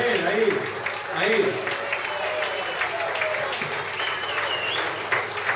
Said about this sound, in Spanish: Miguelito Muñoz, fuerte el aplauso para él, ahí, ahí.